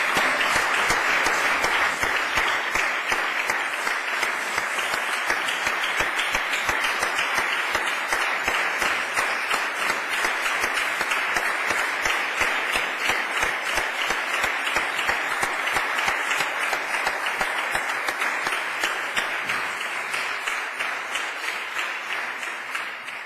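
Sustained applause fills a regional parliament chamber in the Canary Islands during the 2021 debate on the state of the nationality, dense and steady for over twenty seconds before easing slightly at the end, with no voices over it.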